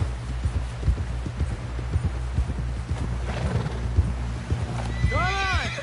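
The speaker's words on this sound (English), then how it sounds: "Someone help John down off this horse" Horse in Red Dead Redemption 2 clip-clopping in a steady rapid rhythm of hoofbeats, then giving a loud neighing whinny near the end.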